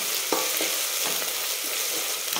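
Garlic and ginger sautéing in oil in a pan for a mutton dish, a steady loud sizzle with a few sharp scraping strokes of a spatula, close up and continuous.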